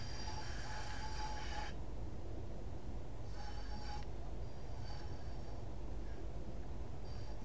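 A simulated train runs on the West Coast Main Line in the video game Train Sim World 5, giving a steady, low rumble of wheels and carriages with intermittent higher hissing and squealing bursts layered over it.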